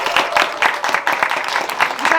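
Applause for student filmmakers on a school panel at a film festival, a lively crowd clapping steadily and loudly with scattered voices mixed in.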